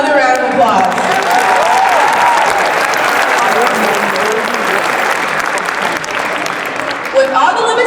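Loud, sustained applause from a large audience at a Martin Luther King Jr. celebration, steady dense clapping with crowd voices and a few cheers mixed in throughout.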